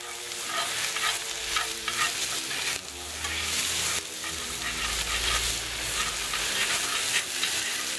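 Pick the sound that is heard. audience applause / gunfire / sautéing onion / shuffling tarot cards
sautéing onion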